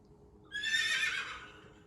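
A single horse whinny rises suddenly, loud and bright, then trails off over about a second against quiet background.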